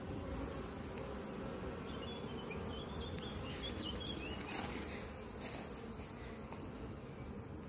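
Honey bees swarming around an apiary hive entrance in the early evening, a dense, constant buzzing drone with a few individual bees whizzing closer past the microphone.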